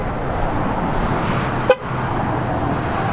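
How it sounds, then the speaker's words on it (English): A 2017 Chevrolet Silverado Z71 horn gives one short, loud honk partway through, standing out sharply above a quiet, steady background hum. "when you hear the horn, just hit this button here."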